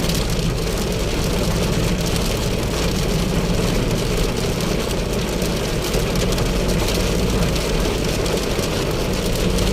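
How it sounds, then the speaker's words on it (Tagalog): A steady, dense roar of sudden heavy rain with large drops drums on a roof in Pasig without letup, loud and continuous throughout. "Biglang ulan. Biglang buhos."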